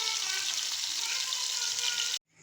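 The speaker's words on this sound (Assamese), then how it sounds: "ইয়াত ভাজি আছে মাছৰ পেটটো" A fish belly fries in a pan with a steady close sizzling hiss that runs unbroken for about two seconds and then stops abruptly, with no talking.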